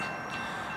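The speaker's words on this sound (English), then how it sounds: "the train's moving at a pretty good clip through here" A moving train rolls past at speed on a rainy day, a steady broadband roar of wheels and cars close by for under a second, with no talking.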